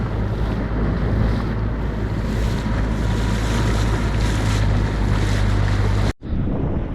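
A motorboat cruises at quarter throttle across a sea bay, a steady low engine drone under rushing water and heavy wind buffeting, continuous and close, cutting out abruptly near the end.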